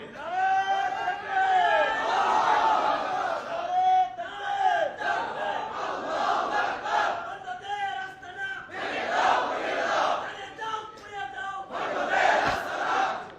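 A rally crowd shouting slogans in loud unison, repeated chanted phrases rising and falling in rhythmic bursts with one voice leading and many answering.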